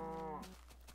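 A single short, close moo from a cow in the video game Minecraft, heard alone.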